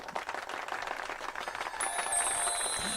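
A short burst of applause plays as a sound effect during a live tarot reading stream, with brisk, fairly quiet clapping from a small crowd.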